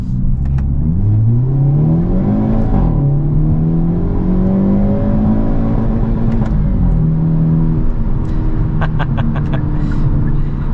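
A 2022 Hyundai Elantra N, 276 horsepower, accelerating hard with N shift from the driver's seat: loud, steady engine roar climbing in pitch through several gears, with brief drops at each shift and faint clicks near the end, no talking.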